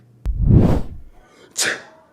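A single loud, close sneeze with a sharp intake and burst, followed a moment later by a short breathy exhale.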